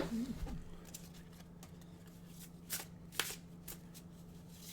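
A deck of oracle cards being shuffled by hand, a steady soft riffling with several sharper flicks and snaps, close and clear over a low background hum.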